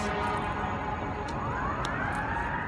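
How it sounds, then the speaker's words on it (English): A wailing emergency siren rises and sweeps steadily over a dense, constant background roar, sounding moderately distant and continuous throughout. "we got sirens and stuff going off"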